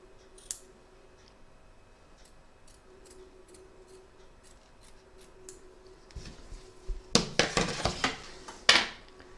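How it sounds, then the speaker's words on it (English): Scissors trim excess applique fabric on a double-sided Santa embroidery hoop, first as faint scattered ticks, then as a close burst of loud, rapid snips near the end. "I'm just going to trim across here the excess fabric"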